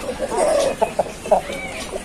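Chickens at an Aseel chicken farm give short clucks and a drawn-out call at close range, several brief bursts over a soft background hum.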